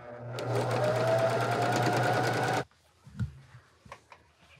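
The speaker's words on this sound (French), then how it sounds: "je vais reprendre la couture, tout simplement" Sewing machine stitching a seam on a crazy quilt, a steady loud mechanical whir with rapid needle chatter for about two and a half seconds, then stopping, followed by a few faint clicks and handling sounds.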